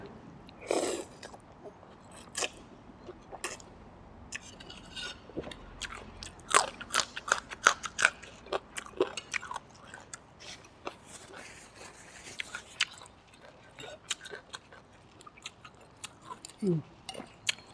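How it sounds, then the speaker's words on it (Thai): Someone eating khanom jeen rice noodles in a thick coconut curry made with tilapia, served with chicken feet, long beans and basil, with close, quiet bites, crunches and chewing scattered in short bursts. "กินขนมเส้นน้ำกัน"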